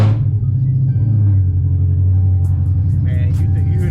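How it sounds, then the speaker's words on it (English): A 2019 Dodge Challenger Scat Pack rumbles through a cold start, heard from inside the car: a loud, steady, deep low idle throb, with someone talking over it near the end. "you hear that thing rumbling?"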